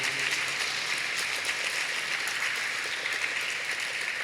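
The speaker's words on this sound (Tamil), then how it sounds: "கைத்தட்டி கடவுளுக்கு நன்றி செலுத்துங்க எல்லாரும்." A church congregation at a Tamil Catholic retreat claps in thanks to God, a steady, fairly soft wash of many hands with no voices standing out.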